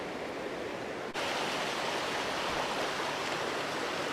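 A babbling brook beside camping pods at Park Cliffe near Windermere in the Lake District rushes in a steady, close, continuous wash of flowing water, with no voices.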